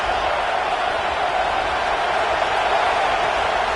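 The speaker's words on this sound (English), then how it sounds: "3rd down play in the red zone, and this crowd is at fever pitch" A packed stadium crowd roars at an LSU versus Wake Forest college football game, a dense, steady wall of cheering that holds at full volume during a third-down play in the red zone.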